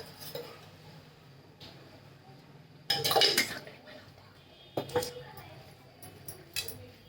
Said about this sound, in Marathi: आणि असं मिक्स करून घ्यायचं सगळं मसाल्याचं